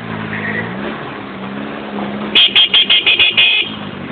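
A motorcycle idles and revs nearby on a forest trail, then a series of sharp, rhythmic horn-like bursts sounds before the engine drone returns.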